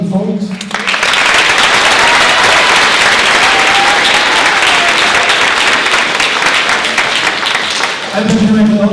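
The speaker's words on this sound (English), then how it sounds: "A big round of applause to these young folks." Loud, sustained applause from an audience for young singers performing an elders' wisdom children's song, dense clapping filling the room for several seconds, with brief voices at the start and end.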